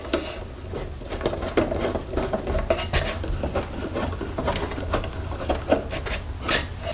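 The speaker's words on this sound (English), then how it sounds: "So I'm just gonna put this screws back in the back." Small metal screws clink and scrape as they are fitted back into the rear of an Aukey external hard drive enclosure, with light rattles and taps at close range against steady background hiss.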